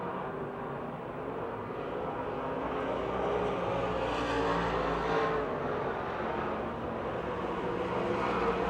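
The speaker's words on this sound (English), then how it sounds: "Cornet-built spec engine under the hood of the 2J of Mike Johnson" A dirt track race car with a Cornet-built spec engine roars continuously at a Pittsburgh-area speedway, a loud, dense engine drone from the pack swelling slightly mid-way, heard from the stands without speech.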